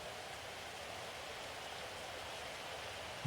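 Steady rain falls in the fantasy football game Blood Bowl 3, a constant even hiss of downpour with no breaks, filling the whole moment without voices.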